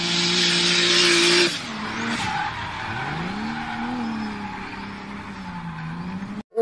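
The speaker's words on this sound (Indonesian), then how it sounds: "Ada mobil balap." Yellow toy race car making a loud high-pitched whirring and screeching run, then dropping to a lower wavering motor tone before cutting off abruptly near the end.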